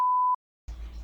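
A single clean electronic beep from an Apple HomePod Mini intercom alert, one steady tone lasting about a third of a second, followed after a short pause by low background rumble.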